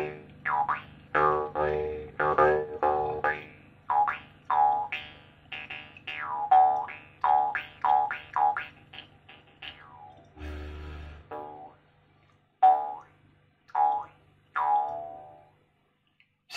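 A jaw harp plucked in quick twanging bursts, each note bending with a boingy wah, played in uneven rhythmic phrases with short pauses between, close and clear.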